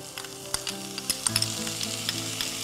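Curry leaves sizzle and crackle as they sauté in a pan of hot oil, a steady frying hiss close by with sharp pops scattered throughout, heard alone without talk.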